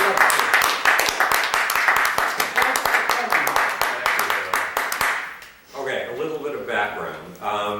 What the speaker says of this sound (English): Let's all give him a good round of applause.